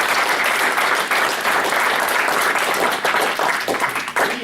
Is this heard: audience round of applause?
yes